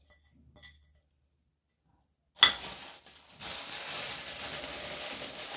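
Chopped potato and carrot tip into a pan of hot cooking meat: a sudden loud hiss and clatter, then a steady sizzle with light stirring scrapes continuing to the end, after near-silence at the start.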